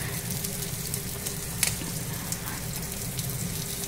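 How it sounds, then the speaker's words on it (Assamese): Fish going into a boiling curry of fried onion, cumin powder and green chilli, with a steady sizzling bubble throughout and one brief sharper crackle near the middle; no voices. "উতলি অহাৰ পিছত ইয়াত মই মাছ দিছোঁ"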